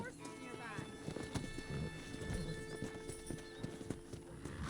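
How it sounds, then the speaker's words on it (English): Wild horses in the video game Red Dead Redemption, hooves clip-clopping in a busy rhythm with a whinny, set under in-game talk and ambient sound. "That ranch hand said there's a pack of wild horses nearby."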